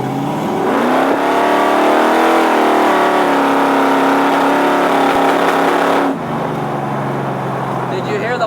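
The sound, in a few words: 1968 Camaro pro street engine revving and popping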